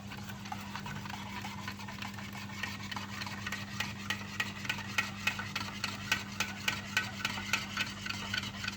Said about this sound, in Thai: ชงให้ทุกอย่างละลายดีค่ะ